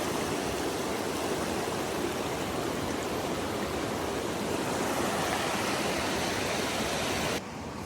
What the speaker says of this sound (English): Little river potholes.